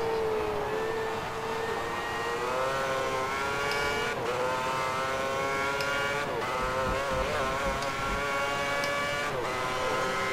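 Lotus Formula 1 car engine screaming at Monza in the Formula 1 2010 video game, a loud sustained high-pitched whine that rises and drops through quick gear changes, steady and alone with no talk.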